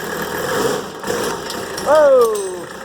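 A freshly rebuilt Mercedes OM617 diesel runs on an engine stand with a rough, clattering idle and a brief rev, while a voice speaks over it.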